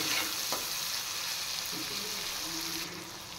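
Turmeric and chili powder sizzle and fry steadily in a pan as part of a Bengali home-style fish curry, a continuous close hiss with faint stirring scrapes.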